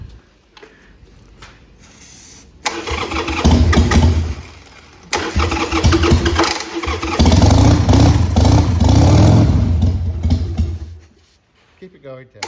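A 1997 Harley-Davidson 883cc Sportster XL883 Hugger cranks and fires up, its engine loud and close, dipping briefly before catching again and running steadily, then cutting out near the end, with people talking faintly.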